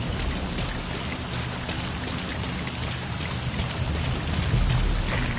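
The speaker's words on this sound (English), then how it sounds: "Rain. The sound of rainfall should help to mask your footsteps." Steady rainfall in the Metal Gear Solid V stealth game, a dense continuous hiss of drops spattering on surfaces, close and fairly loud with no voices.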